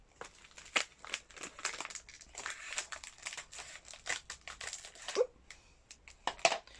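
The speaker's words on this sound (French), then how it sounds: "Je pense que je vais ouvrir avec mes petits ciseaux." Small scissors snip and crinkle through the plastic wrapper of an Asian snack package holding milk biscuits, giving close, uneven bursts of rustling and crackling.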